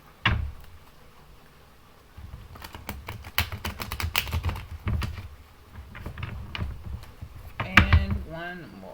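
Tarot cards being shuffled by hand, with quick clustered papery clicks and flutters up close, some louder riffles near the end, and no talking.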